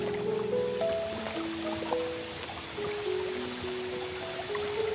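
Fast-flowing hillside stream near Purwakarta, a continuous rushing wash of water close by with trickling and splashing tones, heard on its own without voices.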